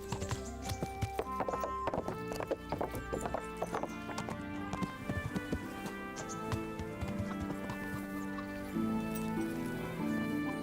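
Horse hooves clip-clop steadily and a horse neighs in the Kingdom Come Deliverance video game, close and continuous beneath a busy backdrop of game sound.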